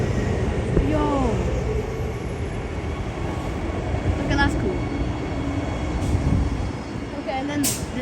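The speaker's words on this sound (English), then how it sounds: "Yes, the test train's departing." Test train departing Cockburn Central Station, a steady low rumble of rail wheels and motors rolling past on the platform, with people talking excitedly over it.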